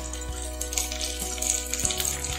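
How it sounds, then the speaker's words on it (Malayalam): Cube-cut chopped onion sautés in a hot pan, a steady close sizzle with a few light spatula scrapes and taps, no voices. "നന്നായിട്ടൊന്ന് വഴറ്റിയെടുക്കാം."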